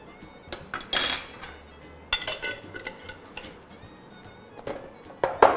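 Sauce being stirred with salt in a bowl, a utensil clinking and scraping against the dish in several irregular bursts, fairly close and clear, with quiet pauses between strokes.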